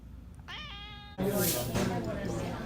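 Indoor cats meowing while banging noises are heard around the house: one clear, drawn-out meow, then a louder, harsher yowl that runs to the end, both close.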